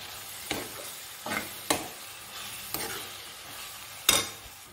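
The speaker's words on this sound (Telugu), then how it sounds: "ఇప్పుడు కారం కూడా బాగా కలిసేలాగా కలుపుకుందాము" Onions and chili powder stirred in a pan with a spoon, several distinct scraping strokes at irregular intervals over a faint background sizzle, the last stroke the loudest.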